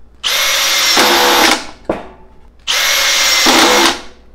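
A cordless power drill on clutch setting 3 drives larger screws, two sustained loud whirring bursts, each ending in a brief clutch ratchet, separated by a short pause.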